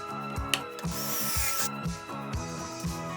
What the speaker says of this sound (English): Clamp the Craig jig to your workbench and get to drilling.